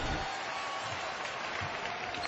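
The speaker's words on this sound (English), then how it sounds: "AI to warm applause" Arena crowd at an NBA game applauding Allen Iverson, a steady wash of clapping and cheering, moderately loud and continuous throughout, with no distinct voices standing out.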